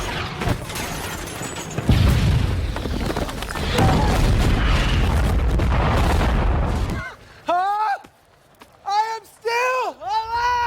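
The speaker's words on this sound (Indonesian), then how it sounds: "An airstrike!" Loud, close airstrike explosions boom and rumble in heavy bursts in a scene from the 2017 film The Mummy, followed by excited voices shouting.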